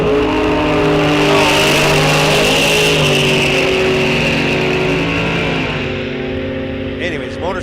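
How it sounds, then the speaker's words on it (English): A motorcycle races down a drag strip at Rock Falls Raceway, its engine screaming through rising gear changes, loud and close at first then fading into the distance, with an announcer's voice faintly over it near the end. "motorcycle going down the track"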